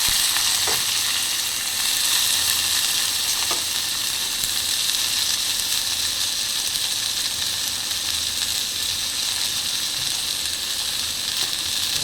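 Cluster beans (gavar) fry in hot oil tempered with mustard seeds, ajwain, asafoetida and turmeric over lowered gas heat, giving a dense, steady, loud sizzle with an occasional faint clink of stirring and no talking.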